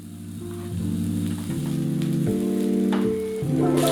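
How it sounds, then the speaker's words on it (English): Duck sizzling on an indoor Korean BBQ grill in a living room, a steady close frying hiss with a low hum underneath and a few sharper crackles near the end, no voices. "let's start with the grilling"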